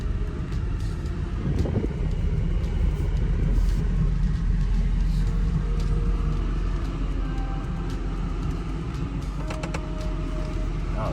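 A 2007 Mercedes-Benz SL550 fitted with a coilover conversion creeps slowly into a garage, its engine giving a steady, close low rumble with faint mechanical noises throughout and no talking.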